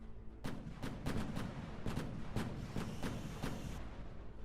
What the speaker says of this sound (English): The AFU opens fire with a machine gun.